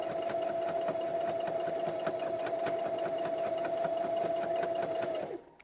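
A sewing machine runs steadily while stitching a fabric pen pouch with a backstitch, giving a continuous close whir and rapid needle chatter for about five seconds before it stops.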